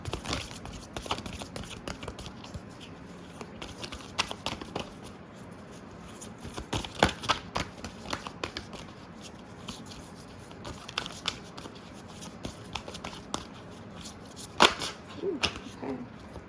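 Tarot deck shuffled by hand at close range: repeated crisp riffles and soft slaps with flicking card noises, coming in irregular bursts over a quiet background.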